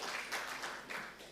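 Applause from an audience at a graduation ceremony welcomes a professor to the stage, a short burst of many hands clapping in a busy, pulsing wash.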